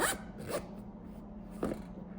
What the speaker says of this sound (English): It just makes it so easy to zip and unzip.